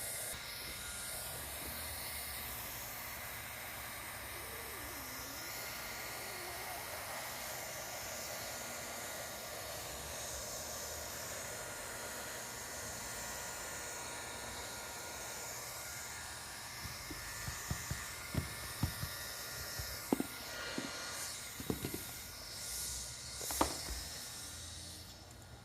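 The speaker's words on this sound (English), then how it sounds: "Now I can go through and I can weld my wrap down." Hot-air welding gun blowing a steady, close hiss while thermoplastic field wrap is welded down around a cone penetration on a roof, with scattered clicks and handling knocks joining in toward the end.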